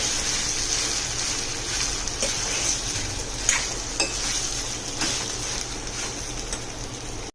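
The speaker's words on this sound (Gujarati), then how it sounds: "બટેકાને એકદમ સરસ આપણે આમાં હલાવવાના છે" Potatoes being stirred into chutney in a pan for a fasting-day dish: a close, continuous scraping and sizzling with a few sharper spoon-on-pan knocks midway, and no talking.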